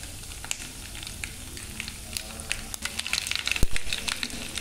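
Cumin and lightly crushed garlic cloves frying in hot oil, a steady close sizzle with scattered sharp crackles and pops that grow busier toward the end.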